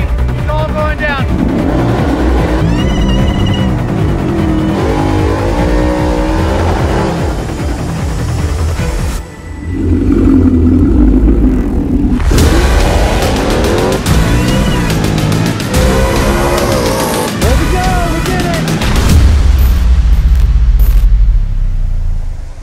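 A Whipple supercharged 2019 Mustang GT drag car on drag radials roars loudly and close, with repeated rising and falling revs, a brief drop near the middle, and a voice speaking over the engine.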